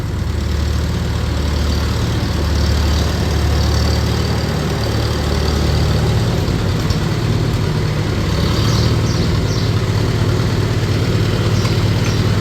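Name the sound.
1948 Farmall C tractor engine idling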